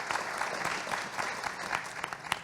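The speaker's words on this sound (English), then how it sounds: "Let's give him a round of applause also." Audience at a think-tank forum applauding a speaker being introduced, a steady wash of clapping at moderate distance with a few sharper individual claps standing out.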